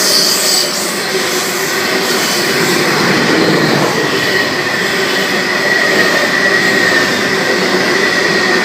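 A Sydney suburban train rumbles loudly past at Seven Hills station, with continuous rail roar, clattering wheels and a faint squeal throughout, without speech.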